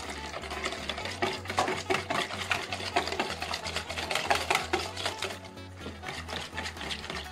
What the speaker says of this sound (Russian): перемешаем до однородной массы при помощи венчика